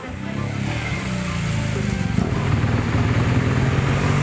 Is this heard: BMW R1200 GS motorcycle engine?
yes